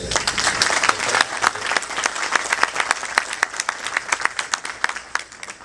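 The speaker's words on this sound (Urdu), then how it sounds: "تو میں چاہوں گا کہ پرویز جعفری صاحب کی ان کوششوں کے لیے تالیوں سے" Audience applause at a mushaira Urdu poetry gathering in Houston, a dense crowd of claps rolling steadily for several seconds, close and loud, alone without talk.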